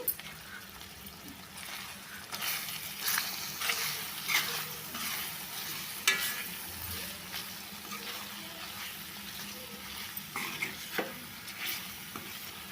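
A spoon scrapes through a raw prawn curry as chili powder and salt are mixed in, with a steady sizzle underneath and repeated close stirring strokes. No voices are heard.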